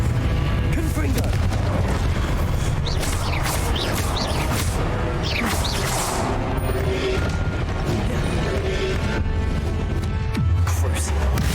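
Repeated booming blasts of the Confringo fire spell in the video game Hogwarts Legacy, loud bursts and crackling impacts layered over game combat noise with no pause.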